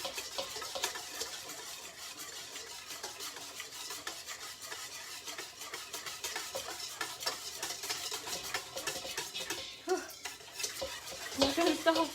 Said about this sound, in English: But don't stop whisking.